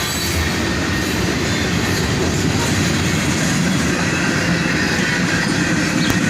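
CSX freight train led by a CM40-8 rebuild and an ET44AH locomotive, rolling past close and loud with steady rumbling wheel noise, rail clatter and faint squeal throughout.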